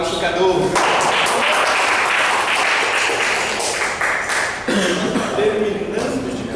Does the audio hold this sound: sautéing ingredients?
no